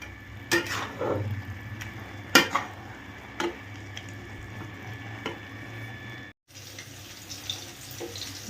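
Scraping and clinking of a spatula stirring carrot halwa with jaggery in a wok over medium flame, with irregular strokes over a soft background hiss; no voices.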